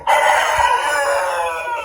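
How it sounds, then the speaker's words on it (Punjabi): A rooster crows once in a long, loud, drawn-out call that fades slightly toward the end, close by with no talking. "ਕਹਿੰਦਾ ਮੈਂ ਵੀ ਦੇਤੀ ਬਾਂਗ"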